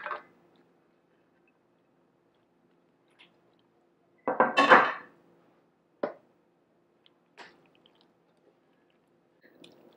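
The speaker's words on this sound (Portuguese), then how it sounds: "Agora eu vou colocar aqui o nosso macarrão." Macaroni tipped into a pot of Gruyère cheese sauce, making one brief wet, squishy clatter of pasta and metal in the middle, with a few faint ticks and taps around it in an otherwise quiet kitchen.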